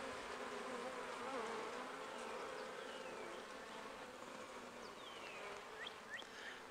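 Honeybees buzz in a dense, continuous drone during a hive inspection, with individual bees zipping close by now and then over the steady hum.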